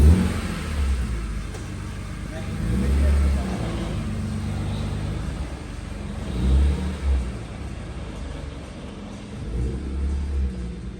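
A BMW E36 M3 EVO engine revs in low rumbling bursts as the car pulls away nearby, surging several times over a steady idle with faint voices in the background.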